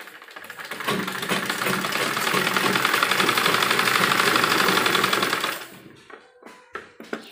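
A sewing machine stitches cloth for a baby frock in one loud, continuous rapid whir for about five seconds, then stops, leaving a few soft clicks of fabric handling.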